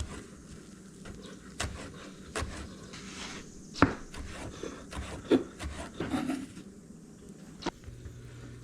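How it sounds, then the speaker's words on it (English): A knife chopping fresh cilantro on a cutting board, with irregular sharp chops and scraping rubs spaced across a quiet kitchen background. "I'm going to chop some of this up."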